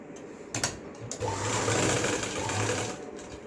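A sewing machine runs a steady final line of stitching along a 27-inch salwar waistband belt, starting after a couple of brief clicks and whirring continuously near at hand with no talk.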